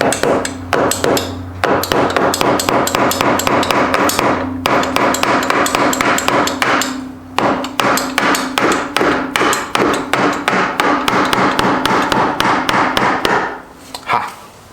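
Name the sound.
mallet hammering on Honda Fourtrax ATV part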